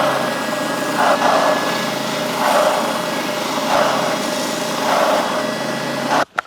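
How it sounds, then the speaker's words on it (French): A sanding machine works on a Telecaster guitar headstock laid flat on its table, a loud continuous motor whine with the rasp of abrasive swelling in regular passes about every 1.3 seconds, cut off abruptly with a final clunk. "on pose notre pièce bien à plat sur le plateau pour poncer perpendiculairement à notre pièce"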